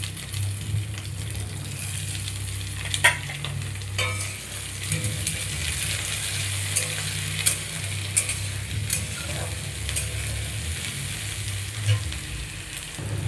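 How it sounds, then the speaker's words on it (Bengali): Potatoes and onions sizzle in a pan of oil while ghugni is cooked, a steady close frying hiss broken by occasional scrapes and clinks of stirring, with no speech. "আমি এবার কেটে রাখা পেঁয়াজের টুকরোগুলো একটু দিয়ে দেবো,"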